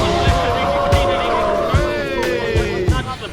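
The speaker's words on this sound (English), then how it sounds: "Through the line, up the gears, the engine sounds better." Race car engine at a race track, its note rising and falling as it climbs through the gears, with repeated sharp bursts and a steady loud drone; a voice talks over it.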